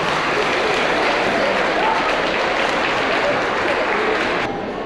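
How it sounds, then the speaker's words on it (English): Concert audience applauding as sixth and seventh grade band students leave the stage at a school winter concert, loud sustained clapping with crowd murmur and some voices mixed in, cutting off abruptly near the end. "give a big round of applause to our 6th and 7th grade band students as they depart the stage"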